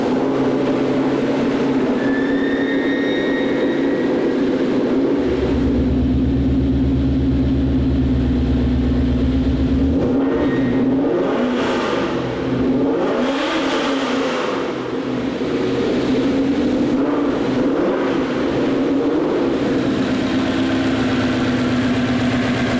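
A 2005 Mustang fitted with a 5.0 Boss 302 V8 idles with a steady, loud rumble, briefly deepening as it is revved, with no talking over it.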